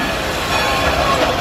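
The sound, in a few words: Dollywood Express train at theme park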